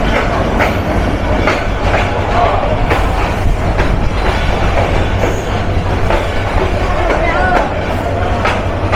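A Kurigram Express passenger train sits at Joypurhat station, giving a loud, steady rumble with repeated sharp clacks and clatter throughout, and voices faintly mixed in.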